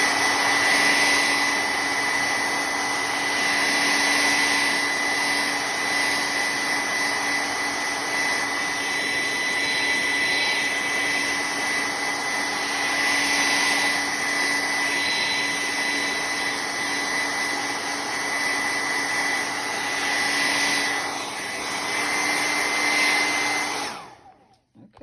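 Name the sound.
hair dryer drying paint on a canvas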